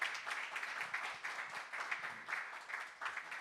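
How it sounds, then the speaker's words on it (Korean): Scattered applause from a congregation at a church opening and thanksgiving service, fairly faint and distant, with uneven bursts of clapping that swell and dip in rhythm. "박수 한번 치시기 바랍니다"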